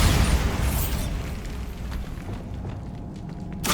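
A Bombarda blasting spell goes off in Hogwarts Legacy, a loud, deep, rumbling boom that swells at once and decays slowly, with a fresh burst of noise at the very end.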